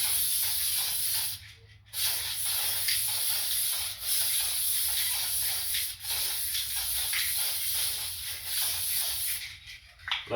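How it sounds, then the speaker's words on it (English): Hydrographic activation spray hissing steadily from an aerosol can onto a floating film in a water tank, a continuous close spray with a couple of short pauses. "Make sure you get a nice little spray."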